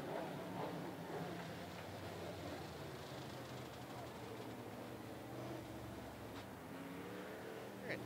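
Sportsman race cars circling 411 Motor Speedway, a steady, moderately distant engine drone holding throughout with faint passing swells.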